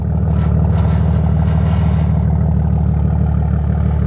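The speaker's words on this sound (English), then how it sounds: "that's the exhaust that's rattling" A Jeep Wrangler's 4.0L engine idles steadily with a low, throaty exhaust burble and a faint metallic rattle from the exhaust, loud and continuous throughout.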